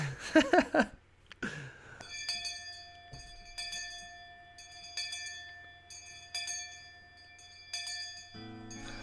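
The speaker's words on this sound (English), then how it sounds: "the last school bell always came too soon" A school bell rings out in the Higurashi When They Cry video game, steady sustained metallic tones sounding repeatedly at a clear, moderate volume after a brief rustle at the start.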